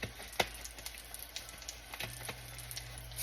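Hamburger patties shaped like Salisbury steaks browning in a frying pan, a faint steady sizzle with scattered small pops and crackles, close but quiet, no one speaking.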